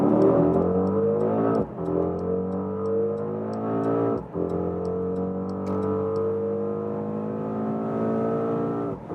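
A Mercedes-AMG GLE 63 S Coupe with a 4-liter V8 bi-turbo accelerates hard in race mode from 40 km/h, its engine note climbing loudly through gears with short dips at each upshift.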